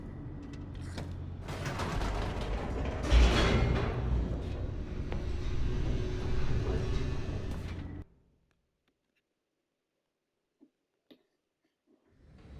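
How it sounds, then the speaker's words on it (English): Elevator machinery in The Stanley Parable rumbles and grinds while descending, loud mechanical whirring and creaks for about eight seconds, then cuts to near silence with a couple of faint clicks. "The elevator raced downward"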